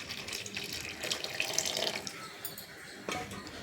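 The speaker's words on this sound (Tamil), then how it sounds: "இப்போ நம்ம புளி தண்ணி ஊற்றலாம்." Tamarind water is poured into simmering broad bean sambar, making a soft, continuous splashing and trickling with a few small splashes, fairly faint and close.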